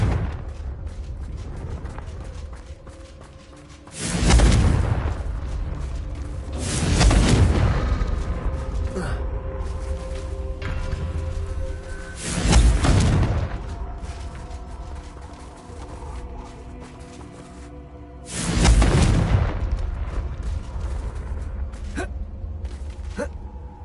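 Confringo spell explosions in Hogwarts Legacy, four loud booming blasts spaced several seconds apart over a steady mechanical background.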